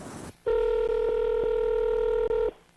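A single steady telephone tone sounds loud and clear for about two seconds, with a few faint clicks inside it. A short burst of noise comes before the tone, and quiet follows it.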